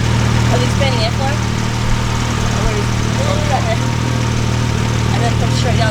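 A twin-turbo 1JZ engine in a Nissan Skyline idles through a 3.5-inch Nismo carbon catback exhaust with a steady low rumble, loud and close, while people talk faintly in the background.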